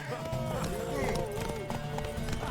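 Galloping horse hooves in The Witcher 3: Blood and Wine, a steady clip-clop rhythm close and loud, mixed with voices and a busy game soundtrack.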